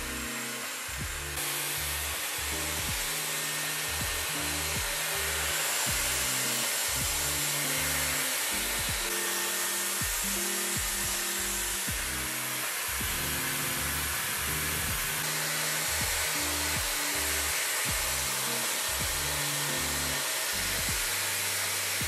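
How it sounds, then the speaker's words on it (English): Dyson Airwrap hair dryer running on high heat while styling curly, coily natural hair, a loud continuous whooshing roar with a rhythmic pulsing low hum, steady throughout with no voices. "I'm gonna let you hear a little bit of what the blow dryer sounds like"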